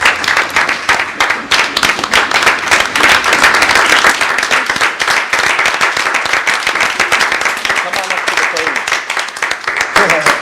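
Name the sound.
audience clapping at city commission meeting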